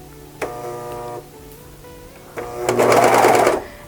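A domestic sewing machine stitches a blind hem on a knit sweater in contrasting thread, a close, loud mechanical whir in two short bursts, the second faster and louder, with no talk.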